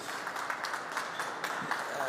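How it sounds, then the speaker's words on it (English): Steady applause from a conference crowd at Tallinn Digital Summit 2022, a dense continuous patter of many hands clapping at moderate volume throughout. "Round of applause, please."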